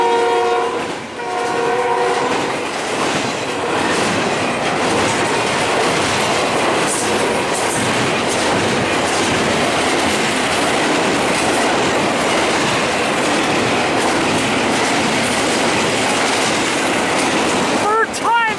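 CN freight train Q196, led by rebuilt locomotive 3317, rumbles past at Ladysmith, Wisconsin, a loud continuous roar of wheels and cars with the horn sounding near the start and again at the end, voices faintly underneath.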